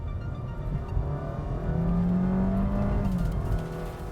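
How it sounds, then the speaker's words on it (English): A Honda City Hybrid under full throttle gives a steady engine drone that swells and holds, with a rising whine as the car pulls hard from inside the cabin. "if you press the full accelerator"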